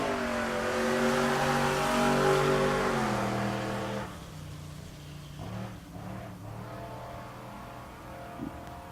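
Drag race car at an Ennis, Texas race week revving loudly with a rising engine tone that peaks near three seconds, then fades to a lower, rougher idle with brief bursts.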